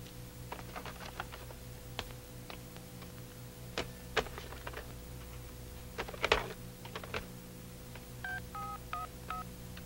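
A telephone is dialed in a quiet room, a series of short, sharp DTMF beeps and clicks spread across several seconds, with a cluster of distinct paired tones near the end.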